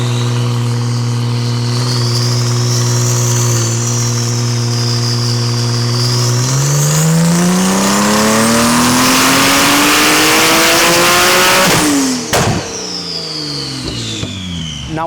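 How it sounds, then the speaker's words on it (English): A Porsche 991 race car on a dyno revs hard, its engine note climbing steadily from a low drone to a high, loud wail before cutting off abruptly, then settling into a lighter idle with no talk. "Now all we've got to do is just set the fans up and this car is ready to go on the dyno"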